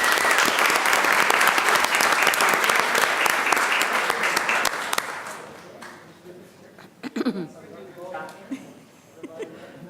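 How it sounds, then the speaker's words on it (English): Audience applause at a board of education meeting, a dense burst of clapping for about five seconds that fades out, followed by scattered murmuring and a few voices in the room. "Please join me in a round of applause"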